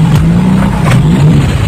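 A car engine revving at a loud, steady pitch as the clutch is let out during a driving lesson, a close continuous drone with slight rises and dips and no speech over it.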